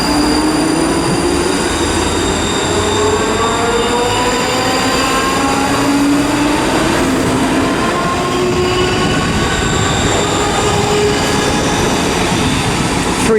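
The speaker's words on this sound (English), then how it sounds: "departing now is the 1612 ScotRail service to Milngavie from Edinburgh" A ScotRail train, the Edinburgh to Milngavie service, departs Haymarket station with a loud, steady rumble of wheels and rising, sliding motor whine tones that fill the whole clip at close range.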